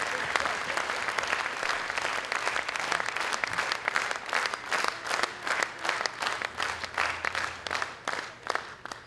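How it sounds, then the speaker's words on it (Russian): A concert audience applauds a Russian folk instrument orchestra at its 2018 showcase concert, with dense, steady clapping that turns more rhythmic and pulsing toward the end. "Аплодисменты."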